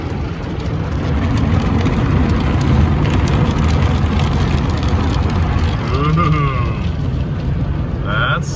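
Car wash brushes thrashing against a truck window from inside the cab, a loud, continuous slapping and rushing roar of spinning brushes and spraying water, with brief voices near the end.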